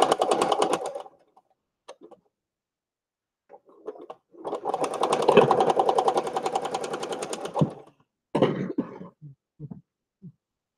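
A new Singer sewing machine stitches a stickpin lace book in one steady, rapidly ticking run in the middle, with short coughs or throat-clearing sounds before and after.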